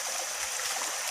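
A river stream runs steadily near a Dayak Tunjung village in Kutai Barat, Borneo, its broadband rushing and trickling water continuous and fairly loud throughout, with no voices.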